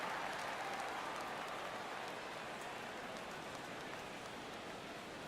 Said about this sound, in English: that rain is really coming down right now